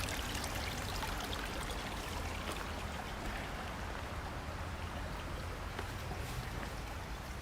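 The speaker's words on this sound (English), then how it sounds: "natural spring that comes out of the ground here" Natural spring water flows out of the rocky ground near Tokyo as a steady, soft, continuous trickle and babble, close by, with no voices.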